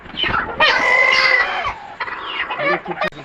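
Chickens handled during catching for beak trimming cluck and squawk loudly up close, a harsh, agitated burst followed by choppier calls.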